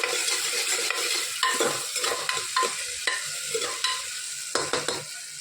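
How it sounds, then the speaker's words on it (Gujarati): Tomatoes stirred and mixed in a hot frying pan, a steady sizzle with repeated scraping strokes of a spoon against the pan, close and fairly loud with no voices. "ટામેટાં સરસ બધું મિક્સ કરી દઈએ"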